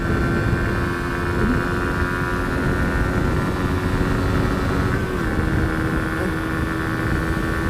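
A Suzuki GSX-R125 sportsbike's 125cc engine runs at a steady, continuous drone with a noticeable rattle, close and loud throughout with no break in its tone.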